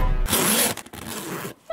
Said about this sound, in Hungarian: Nézzük a cipzárt, hogy az hogy működik.